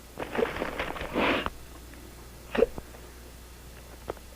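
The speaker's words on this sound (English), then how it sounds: "I got the hiccups." A person hiccups in a scene from a 1970 feature film. A few short, sharp hiccup bursts are followed by quieter breathy catches and a small click, close up, with no speech.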